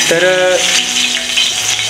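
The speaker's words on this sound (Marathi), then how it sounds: "त्याच्यामध्ये लसूण घालायचं आहे आपण" Garlic hits hot oil on a well-heated tava and sizzles loudly and steadily up close, with a brief spoken word at the start.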